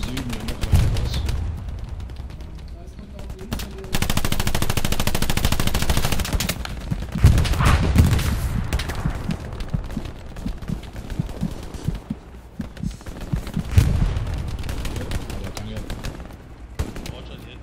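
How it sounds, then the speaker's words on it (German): Tank machine-gun fire in the World War II shooter Hell Let Loose rattles in long, dense bursts with heavier booms mixed in. Someone talks over the steady battlefield din throughout. "wenn du deinem Gunner nicht mal sagst, dass er aufhört, auf mich zu ballern"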